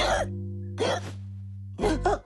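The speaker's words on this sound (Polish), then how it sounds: "Jak mam pozbyć się tej czkawki?" A cartoon character from Koszmarny Karolek hiccups in three short, abrupt bursts over a steady low musical drone, the last two coming in quick succession.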